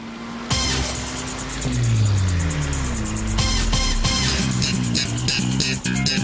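A car moves along a street in a Hindi-dubbed South Indian action film, its engine note rising and falling as it passes close by, loud and steady with clattering scene noise around it.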